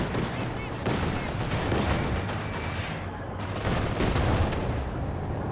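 Mortar and tank fire in a strategy game battle, a steady stream of rapid gunfire crackle and heavy booming shots, dense and continuous under a commentator's voice.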